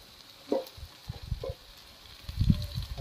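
Capsicum frying in a pan with green chilli and tomato, a soft sizzle broken by a few thumps and clinks of stirring, fairly quiet and close, no voices.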